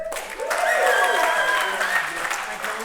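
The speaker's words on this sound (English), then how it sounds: "Please get one more round of applause for the best man with the best love ballad in the house." Applause and cheering for the best man at a wedding reception, a sustained round of clapping with whoops and excited voices rising through the crowd, fairly close and loud.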